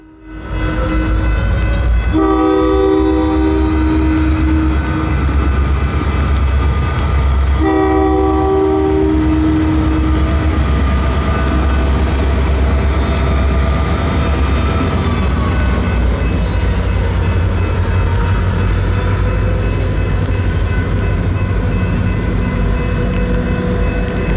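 A loud Southern Pacific freight train rumbles past with heavy engine drone, and its horn sounds in two long blasts early on before the rolling noise continues.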